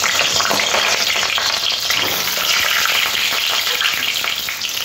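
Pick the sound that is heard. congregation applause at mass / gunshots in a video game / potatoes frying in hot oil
potatoes frying in hot oil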